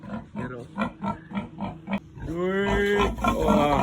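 A domestic pig behind a house gives a run of evenly spaced close grunts, then breaks into a loud, drawn-out squeal that goes on to the end.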